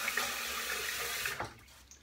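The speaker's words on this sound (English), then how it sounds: "Let's throw a little bit of water on my face, use the bloom water" Water running from a tap into a bathroom sink during a shave, a steady close splashing flow that cuts off abruptly near the end, leaving quiet.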